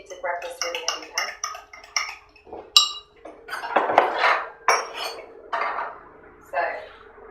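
A heavy pan clanks and clinks repeatedly as it is grabbed and handled in an outdoor field kitchen, metallic knocks sharp and close, with a voice talking over the handling.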